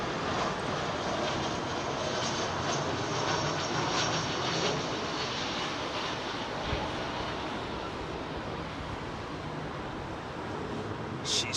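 An Emirates Airbus A380 jet lands and rolls out at London Heathrow, a continuous loud engine roar holding steady across the whole stretch without talk.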